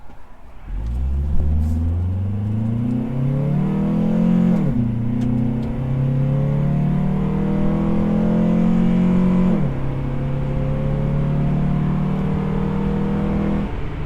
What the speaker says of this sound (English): all you can hear right now is the intake